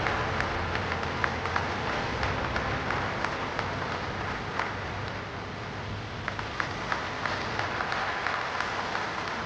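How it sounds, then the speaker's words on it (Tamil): A full hall at an award ceremony breaks into dense, sustained applause, many hands clapping continuously at a steady level throughout. "நல்ல அரங்கம் நிறைந்த கைத்தட்டலோடு"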